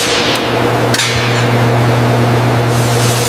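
Pneumatic rivet gun driving rivets into a panel of a Grumman F-14A Tomcat fighter jet during restoration, a loud close rapid hammering buzz with steady tones, sustained for about three seconds and clipped by a couple of sharp taps.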